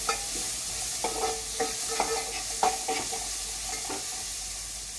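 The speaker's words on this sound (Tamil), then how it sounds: "வெங்காயம் கொஞ்சம் நேரம் நல்லா வதங்கட்டும் அது கூட காய்கறியை சேர்த்து நம்ம வதக்கிடுவோம்" Onions and chow chow (chayote) sautéing in a pan for a quick kuzhambu: a steady sizzle with repeated scraping stirs of a spoon against the pan, close and continuous with no talk.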